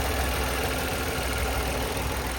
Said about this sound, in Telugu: ఒక్కసారి మీకు ఇంజన్ కూడా స్టార్ట్ చేసి చూపిస్తాను